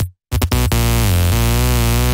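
A sustained, bright sawtooth-style synth lead from a near-initial Serum preset on oscillator A plays a MIDI riff, loud and upfront, with a few short stabs before the held notes that bend slightly in pitch.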